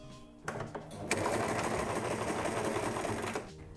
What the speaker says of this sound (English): by pressing it, the machine goes backwards, and that allows it to make like a knot that you would by hand, and it secures this seam